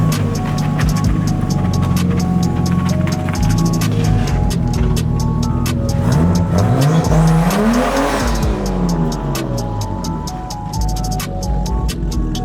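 Nissan S14 car pulling away at night, with engine revs climbing and falling through shifts and a brief tire squeal, loud and close before easing off.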